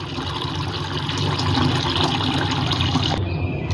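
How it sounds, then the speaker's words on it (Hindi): Water pours steadily into a container, a dense continuous splashing rush that grows slightly fuller before cutting off abruptly near the end. "यहाँ पर ये देखें, पानी शरीफ भर रहा है इसके अंदर।"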